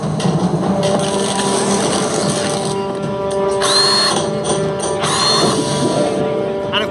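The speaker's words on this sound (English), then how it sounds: "Here's the engineering action. Off comes the panel, the pliers." Sci-fi engineering effect of a panel being pulled off and pliers at work: a dense mechanical hum with clicks and ratcheting, plus two bright whirring electronic sweeps, loud and continuous.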